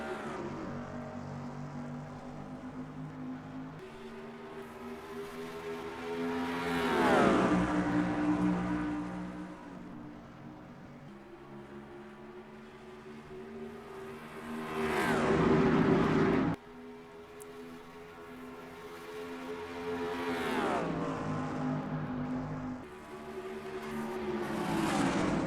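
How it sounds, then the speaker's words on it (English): Stock cars racing in the NASCAR Racing 2003 video game at the Las Vegas Motor Speedway, with loud droning engines rising and falling as cars pass in repeated surges, steady and continuous with no talking. "Howard Anderson Jr. leads to the green, and we are green flag racing for the Nevada 150 at Las Vegas Motor Speedway."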